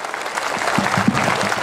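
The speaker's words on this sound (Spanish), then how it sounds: "¡Que se escuche el aplauso! ¡Venga el aplauso, sí señor!" Dense, steady applause from a crowd at a rodeo fair, close and continuous, with faint voices mixed into the clapping.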